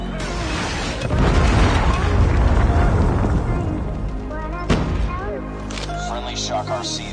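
A Predator missile strike in Call of Duty Mobile: a heavy booming explosion rolls out loudly for several seconds, followed by a sharper blast, game effects and faint voice callouts.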